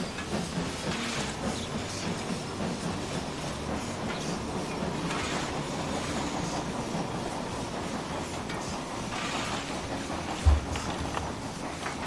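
Austrian mod locomotive in the Transport Fever 2 game hauls its train steadily along the line, a continuous rumbling run with rhythmic clacking and one brief low thump near the end.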